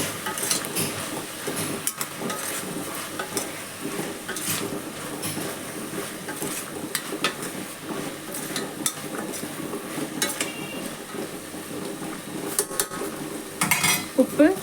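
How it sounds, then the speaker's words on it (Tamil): Mushroom and mint stirred into biryani masala in a pot: repeated metal spoon scrapes and clinks against the vessel over a low sizzle, close and fairly loud, with no talking. "நல்லா கிளறி விட்டுக்கோங்க"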